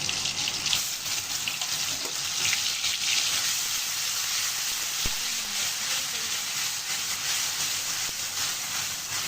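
Onion paste and green chili paste fry in a pan with a steady, dense sizzle and hiss, close and continuous, with one faint clink partway through.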